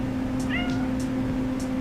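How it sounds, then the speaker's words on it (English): Pet cat meowing, a short, clear meow over a steady low hum, with faint chirpy overtones, close to the microphone. "This is my cat, Fonzie."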